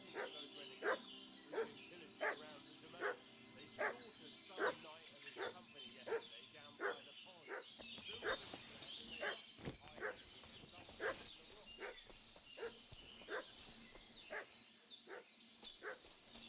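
A dog barking repeatedly in a village in Kingdom Come: Deliverance 2, steady rhythmic woofs at moderate distance with short yips, while game characters talk over it.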